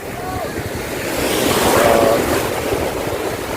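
Strong ocean waves wash and surge at Ivisan Beach in Roxas City, Capiz, a steady roar swelling midway with wind buffeting the microphone and a voice speaking briefly.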